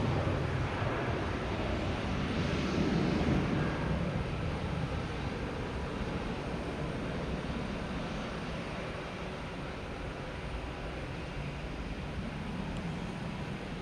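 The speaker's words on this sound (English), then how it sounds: "there goes that Delta to Amsterdam" Delta airliner bound for Amsterdam taking off from Boston Logan, a broad roaring jet rumble heard from a distance, swelling slightly then holding steady and fading gently.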